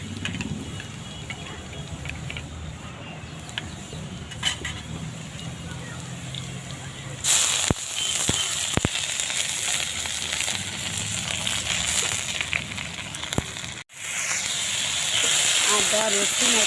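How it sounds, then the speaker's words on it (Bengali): Onions browning in a pan sizzle steadily, then a louder, brighter hiss bursts up as ground ginger, garlic and green chili paste is added, with stirring scrapes and constant frying afterward. "পেঁয়াজ লাল হয়ে আসছে, এবারে দিয়ে দেবো এর উপরে আদা রসুন"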